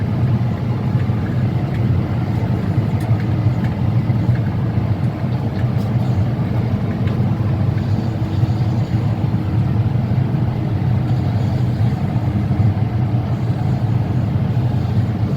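A 300-horsepower Case IH Optum 300 tractor runs steadily while baling wheat in a field, a loud continuous diesel drone and rumble heard from inside or close by, without speech.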